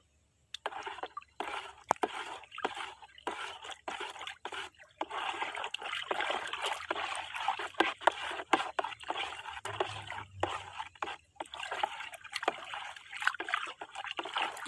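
Liquid fertilizer being stirred into water for onion crop care, a soft continuous trickling and swishing with small splashes, close and fairly quiet.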